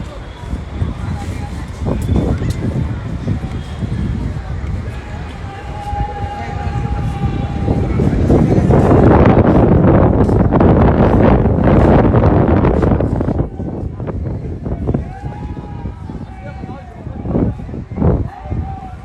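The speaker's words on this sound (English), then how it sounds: "So windy out here, cloudy." Gusty wind outdoors in Haridwar, India, on a cloudy day buffets the microphone, swelling into a long loud roar in the middle before easing, with people talking intermittently underneath.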